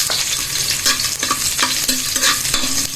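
Garlic sautés in a hot pan with a loud, close sizzle, and repeated scraping strokes of a spatula stir through it in a quick, uneven rhythm; no one speaks.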